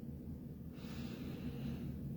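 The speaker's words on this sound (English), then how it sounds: "So this is a harder breathing, contraction." Quiet, forceful breathing from a meditation exercise on a mat: one long, hissing breath swells midway and continues to the end, close and soft.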